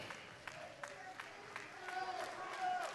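A wrestling crowd claps steadily in an arena, a dense sustained patter with scattered cheers that swells slightly toward the end, while someone talks over it.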